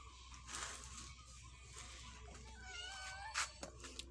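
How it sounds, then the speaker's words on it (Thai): A cat meows outdoors near a rural home in Thailand, giving a few faint, drawn-out wavering cries from some distance over quiet background noise. "แมวอีกแล้วแมวอีกแล้วไหนดูที"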